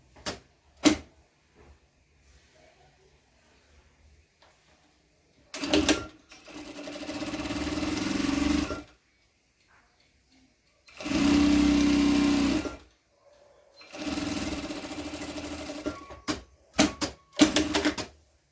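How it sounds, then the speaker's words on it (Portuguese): A sewing machine stitches a seam on an embroidered cloth diaper in several loud bursts of fast whirring needle chatter, separated by quiet pauses with a few small clicks and taps, close by and without talk. "aqui agora eu vou fazer uma costura bem aqui rente, mais ou menos meio centímetro de diferença"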